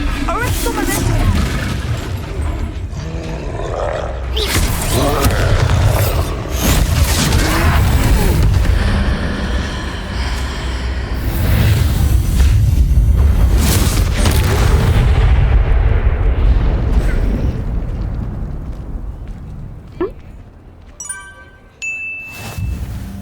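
A troll in Hogwarts Legacy roars and crashes in heavy, booming impacts that sustain loud rumbling over about twenty seconds, fading near the end into chiming game effects, with spell-casting shouts and voices over it.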